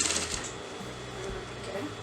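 A sewing machine runs continuously while stitching a half collar onto a back neckline, with a steady mechanical whir close by and a voice talking over it.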